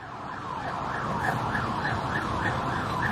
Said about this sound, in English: Now we've got an ambulance coming down here.